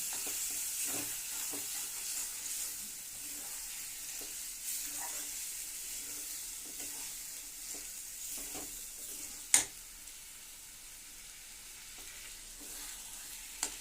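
Fish frying in hot oil in a pan, a steady soft sizzle throughout with occasional stirring clinks and one sharp tap near the end.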